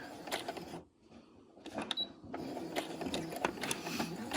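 Sewing machine stitching a back stitch while sewing a floor turtle, a fast mechanical clatter that briefly pauses, then resumes steadily and close by.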